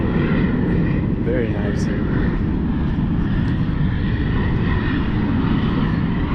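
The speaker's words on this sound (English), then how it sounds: "we're going to see the big airplane" A plane flies over near Sydney Airport with a steady loud engine roar through the whole stretch, while people talk briefly nearby.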